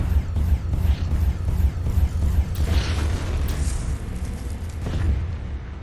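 Tank explosions and gunfire from the online tank battle game Tanki Online, a dense stream of booms, bursts and mechanical clanking that stays loud and continuous, with sharper blasts near the middle and end.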